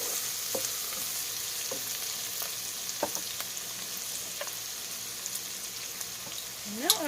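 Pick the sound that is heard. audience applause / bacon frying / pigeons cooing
bacon frying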